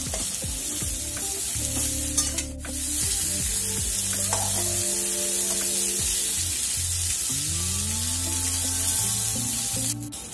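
Eggplant pieces frying in a little oil for a home-style Bengali vegetarian mixed vegetable dish, a steady close sizzle with stirring and spatula scrapes throughout, no talking.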